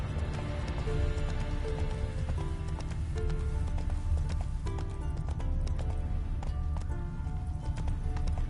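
Roach the horse gallops in The Witcher 3 with a steady, rhythmic run of hoofbeats under a continuous low rumble, joined by a faint voice and sparse musical tones.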